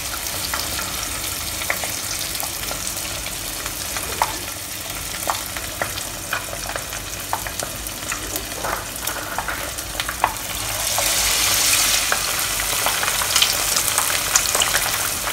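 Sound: chicken pieces frying skin side down in oil

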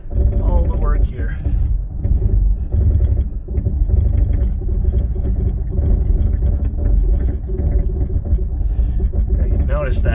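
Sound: Toyota 4Runner downhill assist control working on steep decline

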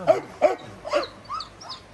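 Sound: dog whimpering and barking

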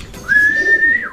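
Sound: white pigeon landing and cooing

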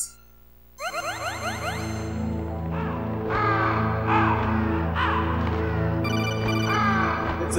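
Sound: crows cawing in the video game Metal Gear Solid

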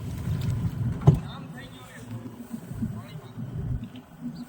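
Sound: rescue boat moving through floodwater

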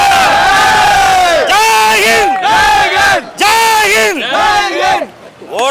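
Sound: crowd applauding and cheering at a theatre

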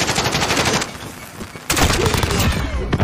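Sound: gunfire in a Call of Duty video game

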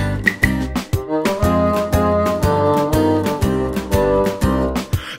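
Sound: claves being tapped

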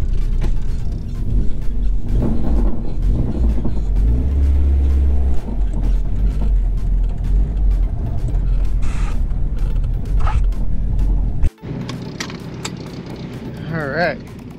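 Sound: Honda engine with VTEC engaging during drive

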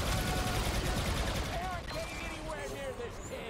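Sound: gunfire in Star Wars Battlefront 2 video game

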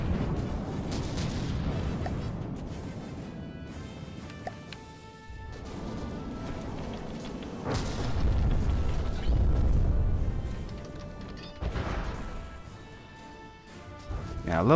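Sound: heat torpedoes hitting targets in video game From the Depths

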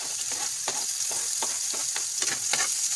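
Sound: onions frying in a pan

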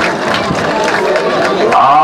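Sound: audience applause at a rodeo

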